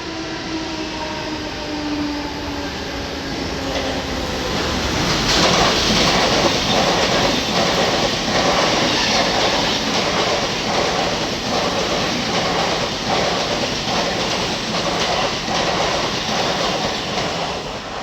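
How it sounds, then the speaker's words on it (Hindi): A fast train runs past a Kalwa station platform without stopping, giving a loud, continuous rumble that swells midway, with rhythmic wheel clatter over the rail joints and no talk. "तो भाई चलो ट्रेन आगे दिखाता हूँ आपको।"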